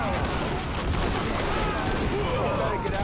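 Battle sounds from the Army Men of War video game, with dense bursts of rapid gunfire and explosive pops that run through the whole clip, loud and continuous, with a voice faintly underneath.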